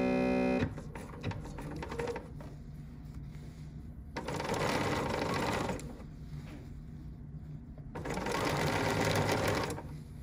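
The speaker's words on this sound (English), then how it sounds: "And now I'm just going to go ahead and stitch." BERNINA sewing machine stitching a trouser hem, a steady close mechanical whir and rapid needle chatter that runs in long stretches, speeds up and eases between bursts.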